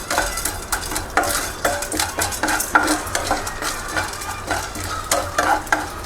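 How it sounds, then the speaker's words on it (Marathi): Edible gum (dink) fries in ghee in a pan for dry fruit and flaxseed laddu. A steady sizzle runs under repeated scraping and stirring of a metal spoon against the pan, in a close, rhythmic pattern with no talking. "डिंक एकदम फुटूस तोपर्यंत तळायचा, पूर्ण लाह्या झाल्या पाहिजे त्याच्या."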